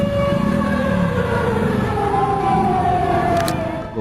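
A loud emergency siren wails continuously, its rising and falling tones steady and close, with traffic rumble beneath.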